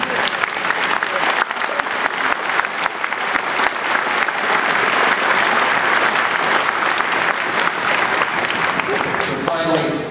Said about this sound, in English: I'd like to give a great big hand of applause to the families.